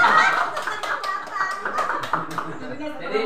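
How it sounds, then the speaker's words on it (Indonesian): Hands clapping together in a classroom, a rapid run of close, bright claps over about three seconds, mixed with children's voices and light chatter. "tepuk tangan untuk kita semua."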